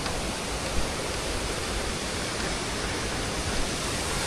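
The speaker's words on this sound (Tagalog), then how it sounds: "May waterfalls." A waterfall near a vegetable garden where cherry radishes are harvested, heard as a steady, dense, loud rushing roar that fills the whole stretch without pause.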